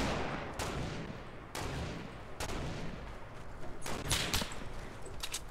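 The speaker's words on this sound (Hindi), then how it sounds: "गोलियां पड़ रही है" Gunfire in the video game Fortnite: several sharp, loud shots crack out at irregular intervals over a rumbling background, with a quick cluster of shots near the end.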